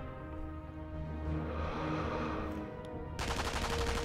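Gunfire in the video game Sniper Elite V2, a loud, dense crack and rumble building up and ending in a sharp burst of rapid shots.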